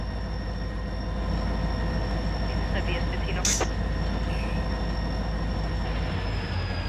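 Train rolling in the Run 8 train simulator game, a steady loud rumble with tonal wheel squeal lines and a sharp screech midway, while someone talks over it.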